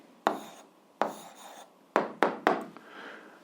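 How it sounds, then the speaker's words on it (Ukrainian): Handwriting an answer for an 8th-grade algebra exercise, a few short pen or pencil strokes scratching on paper, close and quiet with pauses between them. "записуємо відповідь, пишемо відповідь"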